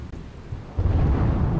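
Heavy monsoon downpour over Gir Somnath town and highway, a dense steady roar of rain with a deep thunder rumble swelling partway through and continuing to the end, with no voices.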